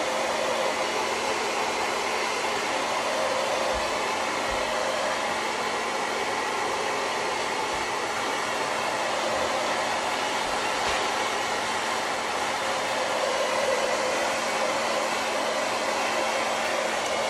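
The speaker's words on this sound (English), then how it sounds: "I'm going to go ahead and dry this real quick so that I don't get paint all over my hands" A handheld dryer blows over wet paint on a candlestick, a loud, continuous, even whoosh that runs unbroken throughout with no talking.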